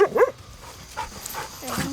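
Hunting dogs bark and yip excitedly in short bursts, with some higher whining cries, moderately near and outdoors, mixed with faint background noise.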